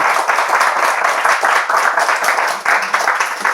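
A small group applauds during a Bible quiz, with close, continuous clapping that holds steady for a few seconds.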